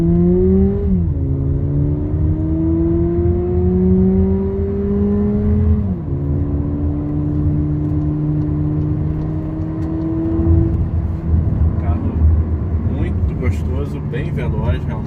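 2020 VW Polo GTS turbo hatchback accelerating hard from 0 to 100 km/h uphill, engine pitch climbing steadily through the gears with a shift dip near six seconds, loud and close from inside the cabin.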